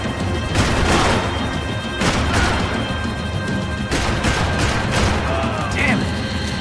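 Gunfire and crashing impacts from the game Max Payne 3 burst out in several sharp volleys among tense in-game voices shouting over the action.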